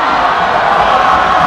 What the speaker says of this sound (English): Copperhills crowd trying to deter him.